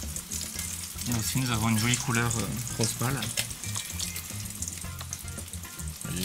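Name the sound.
pork loin searing in a cast-iron pot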